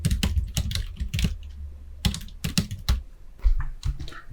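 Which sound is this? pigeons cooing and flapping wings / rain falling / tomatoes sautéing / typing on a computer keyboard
typing on a computer keyboard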